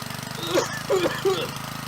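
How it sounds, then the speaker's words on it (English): An old pull-cord engine runs steadily after starting, a low, even, rapid chugging that continues throughout, close by with someone talking over it. "rip the choke or rip the pull cord and start it up"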